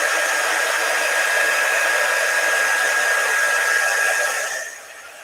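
A hair dryer blows steadily on a wet chalk paste transfer laid on a 9x12 boutique insert, a loud continuous whoosh with a faint whine that cuts off near the end.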